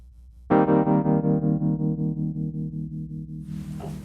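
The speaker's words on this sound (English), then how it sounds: "And then I'm gonna turn the vibrato all the way up." One Wurlitzer electric piano chord is struck and held with the vibrato turned fully up, its volume pulsing in a fast, deep vibrato as it slowly fades. No one speaks.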